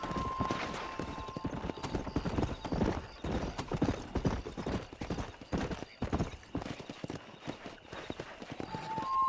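Galloping horse hooves from the Red Dead Redemption video game, a fast, steady clip-clop rhythm running throughout with music and ambient game sound layered underneath, plus an occasional neigh.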